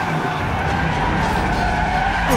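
A car in the video game Resident Evil VII is driven recklessly and skids, a loud, continuous tire squeal over engine roar that holds steady for a couple of seconds, close and alone.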